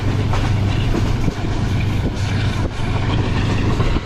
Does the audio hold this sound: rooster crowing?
no